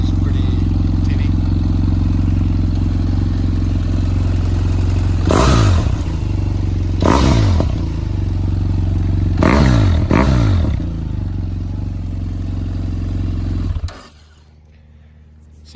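A BMW F800GT motorcycle with an aftermarket exhaust idles loudly and deeply nearby, then is blipped into four sharp revs that rise and fall before the engine cuts off, leaving near silence.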